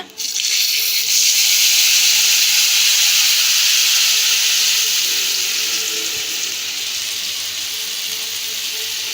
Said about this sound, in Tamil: பெரிய லெமன் சைஸ் புளியை கரைச்சி தண்ணியை ரெடியாக வச்சுருக்கோம் உள்ளே சேர்த்து போனோம்